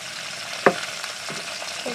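Green chilies and onions fry in very hot oil, a soft continuous sizzle with a sharp clink of a utensil and light stirring scrapes, close and without speech.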